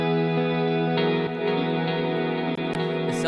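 An electronic music drop plays with reverb placed before sidechain compression, giving sustained, layered synth tones that pulse with periodic rhythmic dips and stay loud and dense throughout.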